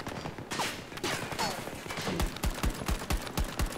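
Gunfire in Battlefield 2042 starts as scattered shots and builds into a rapid, evenly spaced string of reports near the end. A player talks over the shooting.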